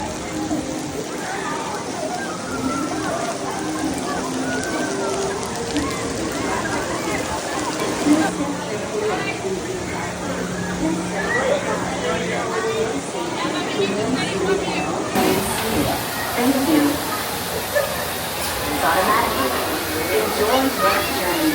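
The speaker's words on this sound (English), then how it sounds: "It is pouring." Heavy rain pours during a Disney World PeopleMover ride, giving a continuous hiss of rain, with voices and crowd chatter underneath and a shift in the sound partway through.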